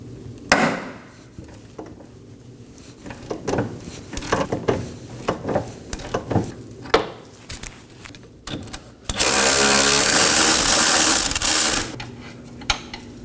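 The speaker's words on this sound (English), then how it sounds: "We'll be putting a ratchet on the nut side and holding the bolt side with a wrench." A ratchet works an 18mm upper control arm nut free on a 2018-2024 Chevrolet Equinox 1.5L while a wrench holds the bolt side, giving loud irregular clicks and clunks, then a few seconds of sustained rapid ratcheting.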